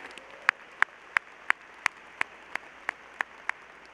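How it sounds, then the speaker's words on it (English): A few people clapping at a Clemson master's graduation ceremony after the national anthem, sparse, evenly spaced sharp claps about three per second over a quiet hall. "how about another round of applause for Emily for singing the national anthem?"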